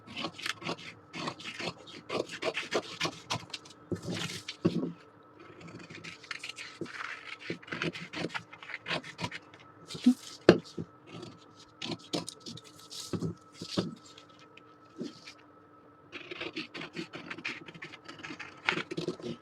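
Scissors cut blouse fabric pieces for a princess-cut blouse, with a steady run of close, soft snipping and rasping strokes and brief pauses, and no voices.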